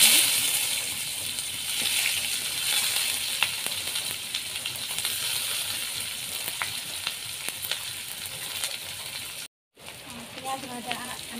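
Onions fry in hot oil with cumin seeds and bay leaf, a continuous soft sizzle with occasional pops and stirring scrapes, close by, with a person talking quietly over it.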